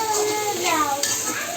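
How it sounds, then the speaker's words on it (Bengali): Noodles fry with tomato sauce in a pan, a steady sizzle mixed with stirring scrapes and light clinks of utensil on metal, close and continuous over a short stretch. "খুব ভালো করে ভাজা ভাজা করতে হবে"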